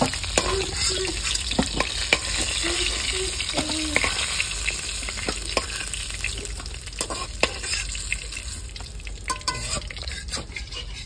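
A katla fish head fries in oil in a village kitchen. A loud, continuous close sizzle is broken by sharp pops and spatters throughout, with a few brief clinks of a utensil.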